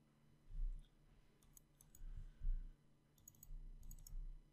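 A computer mouse clicked three times in quick succession, sounding as faint, crisp ticks in small clusters over a quiet room hum.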